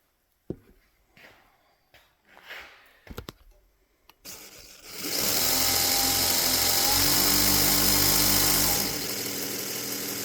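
After a few quiet knocks and handling sounds, a 1x42 inch belt knife sharpening system spins up with a sudden loud, steady whine and rushing belt noise. It holds for several seconds, then eases off slightly near the end.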